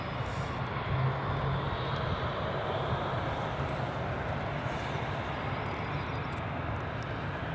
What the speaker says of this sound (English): next up is Jet2's holiday livery, 737-800, about to depart runway 24